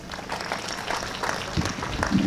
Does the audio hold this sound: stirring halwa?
no